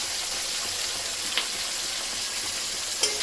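Tomatoes and green chillies fry in a pan with a bright, steady hiss and sizzle throughout, broken by a couple of brief utensil clicks, with no talking.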